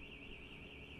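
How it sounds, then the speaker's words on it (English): A car alarm goes off outside as a steady, wavering electronic tone that stays faint and distant for the whole second, with no voices. "Someone had a problem with the car. The alarm went off."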